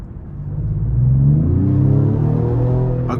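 A 2025 Ford Explorer ST's twin-turbo V6 rumbles loudly from inside the cabin on a test drive, swelling as it revs up and holding a deep, steady drone.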